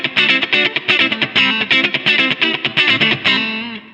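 A Godin Session T-Pro electric guitar played on its neck pickup gives a loud, close run of percussive, rhythmic plucked notes and chords, ending on a ringing sustained tone, with no talking.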